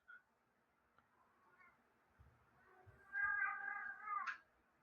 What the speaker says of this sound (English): Studio Cat's kind of a mic hog tonight.